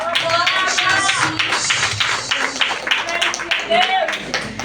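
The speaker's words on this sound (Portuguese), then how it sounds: "dá um forte aplauso ao Senhor" A church congregation claps in a busy, uneven patter of applause while voices speak and call out over it throughout.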